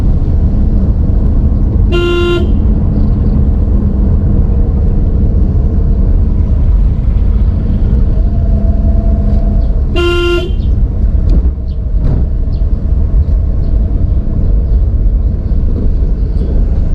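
A dump truck on a village road in Naramosan, Aceh Tenggara, sounds two loud, clear horn blasts about eight seconds apart over a steady, close engine rumble.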